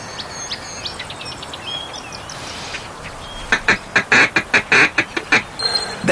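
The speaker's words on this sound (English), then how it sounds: "See if you can do a couple more feed calls." A duck feed call played in a duck hunting video game: a quick run of about a dozen short, rhythmic quacking notes, loud and close. Faint bird chirps come before it.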